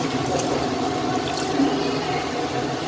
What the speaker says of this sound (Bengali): দেখো একটু জল দিই